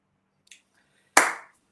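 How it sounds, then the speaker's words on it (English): A single sharp hand clap rings out loud and close, preceded by a faint softer tap, with quiet around it. "I was going to keep clapping on."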